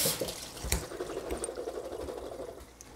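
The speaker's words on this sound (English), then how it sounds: "I'm going to rinse them off a little bit so it gets off the little slime stuff that comes in the can" Canned chickpeas are rinsed under a kitchen tap in a strainer, with running water and soft spattering and clatter close by for a few seconds and no talking.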